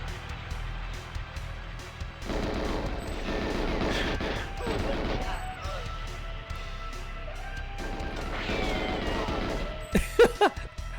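Rifle fire in GoldenEye 007 on a modded N64 rings out in several rapid bursts of sharp gunshots. Between bursts there are pauses, with a quick cluster of shots near the end, and a voice talks faintly underneath.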